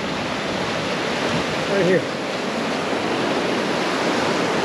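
Ocean surf on a California beach at Long Beach and Seal Beach rushes in a continuous broad wash, loud and close, while someone briefly speaks over it.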